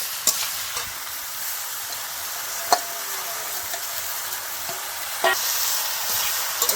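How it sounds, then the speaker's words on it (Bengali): Ridge gourd fries in a pan, giving off a continuous soft sizzle with occasional clicks as it is stirred; close and even, with no speech. "আমি এখন ধুন্দুলটা ঢেলে দিয়ে দেব।"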